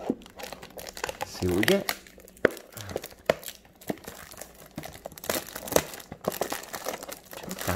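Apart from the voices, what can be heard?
tearing open 2018 Topps Chrome trading card packs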